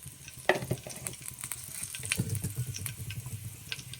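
Mustard seeds fry in hot oil for a Malnad-style bamboo shoot palya, crackling and popping in quick irregular bursts over a continuous soft sizzle, close and fairly quiet.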